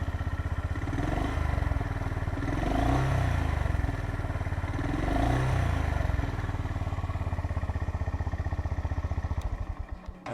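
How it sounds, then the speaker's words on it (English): A Honda GB350 motorcycle engine revs up twice in strong, deep surges, then settles back to a steady throbbing idle, loud and close, with no talking. "You can hear that lovely exhaust note already"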